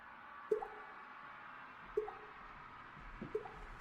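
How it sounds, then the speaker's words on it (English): Water drips falling in a quiet room, three distinct plops spaced more than a second apart, faint and isolated against near silence. "The drips are speeding up."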